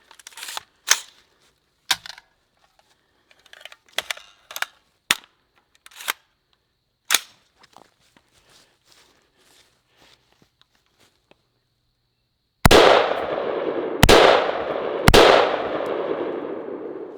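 Rifle firing 55 grain green tip ammunition, three loud, sharp shots near the end with echoing decay, preceded by scattered quiet clicks and handling noises.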